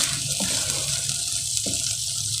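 Ginger garlic paste frying in mustard oil for besan khandvi gives a close, steady hissing sizzle, with a couple of brief soft clinks.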